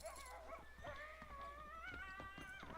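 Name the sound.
coyote howling in video game Red Dead Redemption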